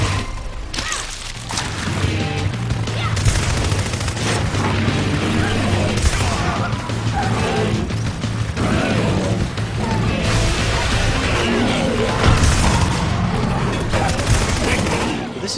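Grenade launcher blasts in the video game NeverDead, amid destroyed streets, with repeated loud booms and crashing debris over continuous game noise and a low drone, while someone talks throughout.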